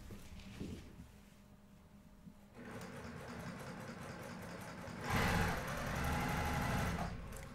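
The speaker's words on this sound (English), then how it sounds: "So I'm sewing the blue to the blue and this gray to the gray." A sewing machine stitches fabric pieces together in quiet room tone, its whirring motor starting, running steadily and then speeding up louder toward the end.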